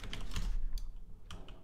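Keys tapped on a computer keyboard during a Roblox horror game, with quick clusters of clicks that come in bursts, pause, then resume, fairly close and moderately loud.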